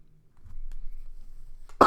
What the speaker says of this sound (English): I'm very sorry for the cough